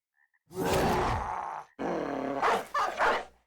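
A dog in Battle Brothers gives two loud, rough barking bursts at close range, the second broken into several short yelps, with no talk over them.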